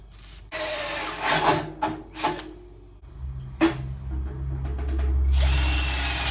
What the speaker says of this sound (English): I guess we're drilling some holes.